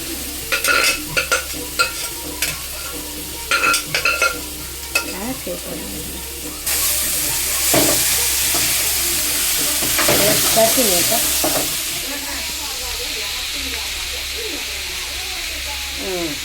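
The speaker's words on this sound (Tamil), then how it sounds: "இந்த காயை வாழைத்தண்டை நல்லா வதங்கின பிற்பாடு போடணும். போட்டு கிளறணும்." Banana stem stir-fried in a pan gives a loud sizzle under scraping stirs: several sharp spatula strokes early, then a broader, steady frying hiss that swells and later settles.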